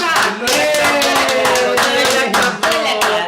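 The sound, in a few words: applause for a child after a meal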